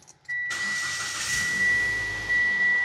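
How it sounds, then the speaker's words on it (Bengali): A car engine cranks and catches, then settles into a steady idle with a faint high whine, heard up close with no talking. "এখন আমি গাড়িটি স্টার্ট দিব।"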